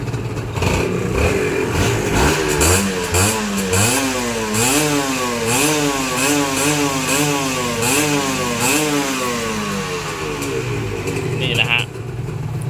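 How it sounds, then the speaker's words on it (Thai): A motorcycle engine, a Honda Dream-style classic bike, is blipped repeatedly, its revs rising and falling in a steady wave-like pattern. The engine is close and loud, and someone talks intermittently over it. "เดี๋ยวเรามาฟังเสียงเบิ้ลเครื่อง วัดรอบ"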